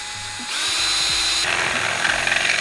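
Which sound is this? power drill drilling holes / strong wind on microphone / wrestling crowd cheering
power drill drilling holes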